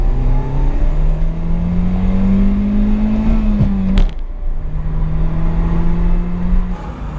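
Peugeot 207 GTI with a small turbo accelerates hard from inside the cabin, engine tone climbing steadily through a gear, a brief shift break, then rising again, loud and close.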